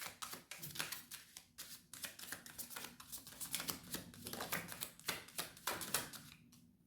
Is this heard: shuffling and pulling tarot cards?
yes